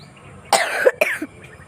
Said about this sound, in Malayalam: ഭയങ്കര ചുമ